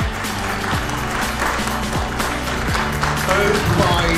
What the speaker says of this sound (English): Big round of applause, please.